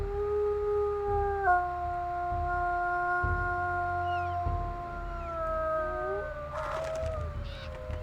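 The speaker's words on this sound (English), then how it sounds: "And there's your first listen to his primary howl there." A wolf's long primary howl in the video game WolfQuest: Dragon Pack, a steady wavering tone that slides and bends, with a few short, higher calls and scrapes near the end.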